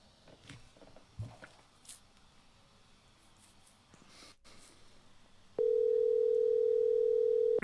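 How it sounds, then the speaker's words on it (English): A phone call to a friend is placed with quiet handling noise and faint rustling first, then a loud steady electronic ringback tone sounds continuously for the last couple of seconds. "Give him another ring. He hasn't texted me back, but let's try it again."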